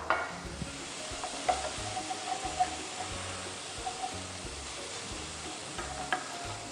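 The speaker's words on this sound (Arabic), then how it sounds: "تنخلو واحد شويه الزيت ديالو وتنديرو فيها البصله ديالنا" Chopped onion sizzles steadily in hot oil in a pan, a close, continuous frying hiss broken by faint stirring clicks.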